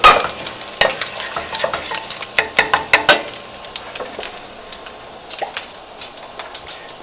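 Garlicky shrimp sauce base simmers and bubbles in butter and olive oil, with a run of sharp spoon clicks and stirring scrapes up front, then easing into a quieter, steady sizzle.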